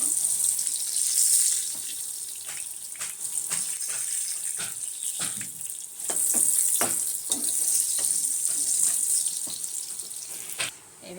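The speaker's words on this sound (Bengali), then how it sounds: "এবার আলুটাকে ভালো করে লাল লাল করে ভেজে নেবো" Potato pieces frying in a pan until reddish-brown, for a fish roe and potato curry, give a steady close sizzle with scattered crackles and pops throughout, with no talking.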